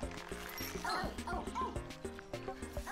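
Cartoon dog barks and yips in the video game Phogs!, short repeated calls over busy game music and effects, fairly close and loud.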